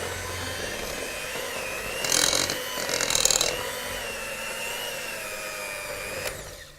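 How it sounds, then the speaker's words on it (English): An electric hand mixer blends dry ingredients into chocolate biscuit dough with a steady, close motor hum throughout, swelling briefly into two louder bursts as the beaters work through the mix. "Using the mixer again, we're going to mix in all of the dry ingredients."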